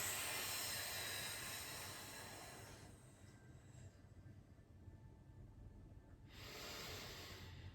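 Steady breathy exhale during a Pilates exercise on a mat, a long soft rush of air that fades out midway and returns near the end, alone with no talk.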